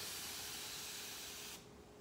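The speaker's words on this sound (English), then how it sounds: "my handy dandy spray bottle of water" Hand-held spray bottle of water misting hair, heard as a single sustained, close hissing spray of about a second and a half that fades quickly.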